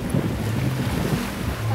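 Ocean waves wash against the shore, a continuous low roar of surf with wind buffeting the microphone, loud and close for a short moment.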